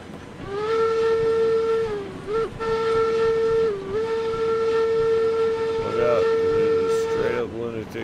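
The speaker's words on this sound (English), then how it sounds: "train coming through." A train in the railway game RailRoads Online sounds a long, loud sustained whistle tone that dips and bends briefly in places, held nearly the whole time over a low rumble.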